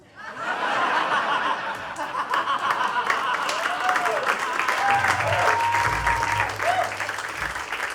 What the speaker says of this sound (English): Applause is the right reaction.